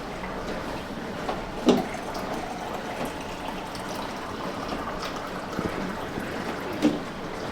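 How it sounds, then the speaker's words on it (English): Water runs steadily from a tap into a bottle already holding electrolyte powder, a soft continuous trickle with a couple of brief clunks of the bottle, close and fairly quiet. "you can fill the rest up with water."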